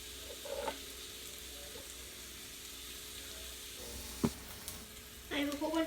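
Onions sizzling alone in a pan on a stovetop burner, a steady soft frying hiss with a few faint clicks and a brief louder clatter near the end.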